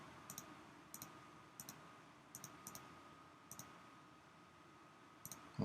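Crisp mouse clicks on a calendar button in patient-management software, a series of single and double clicks, spaced irregularly and close, over a quiet room hiss.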